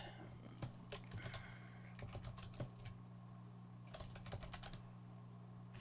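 Fingers type on a computer keyboard in quick bursts of soft clicks, pausing between runs, fairly quiet over a steady low electrical hum.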